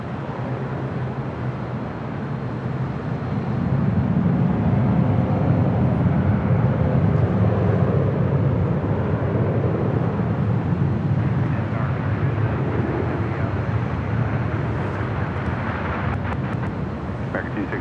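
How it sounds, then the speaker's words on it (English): An American Airlines Boeing 787 Dreamliner arriving from Tokyo Haneda and landing at LAX, a steady distant jet roar that swells after a few seconds and holds as a broad rumble, with a voice talking over it. "American Airlines Flight 26. Dreamliner coming in from Tokyo Haneda, possibly making that wide turn heading to the south side."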